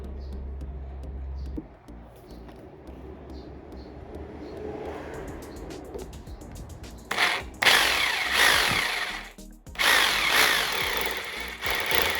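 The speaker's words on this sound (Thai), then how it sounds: "แล้วก็เอาสว่านมายิงตรงนี้" A power drill whines faintly at first, then roars loudly in two long bursts as it bores into a hard wall surface, with a short pause between them.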